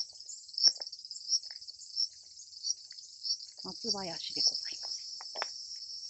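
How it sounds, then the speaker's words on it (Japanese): Cicadas sing in a seaside pine grove planted as a windbreak near a sandy beach, a steady high buzzing drone that runs close and unbroken throughout while a person talks over it. "セミいますね、こう近くにね。"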